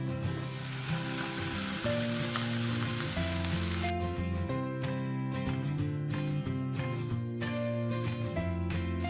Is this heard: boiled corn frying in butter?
yes